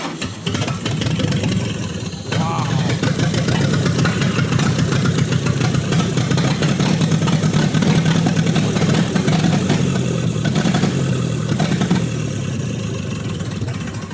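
A 1928 Ford Model A engine catches and settles into a loud, rough, steady idle close by, with a clattering mechanical tone.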